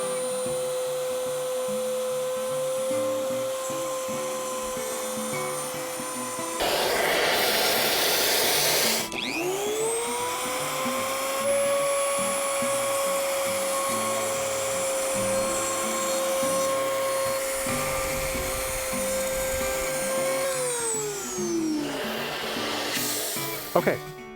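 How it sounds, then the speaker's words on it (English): A high-speed router spins with a steady whine while its bit cuts cocobolo wood for a guitar soundhole rosette, with bursts of louder grinding as the cut engages, then the motor winds down. "we're going to cut the cocobolo, just like we did before"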